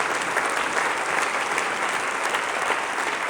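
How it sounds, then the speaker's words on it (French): A church congregation claps loudly and steadily throughout a Sunday worship service, dense sustained applause with no pauses. "On peut les acclamer très très fort."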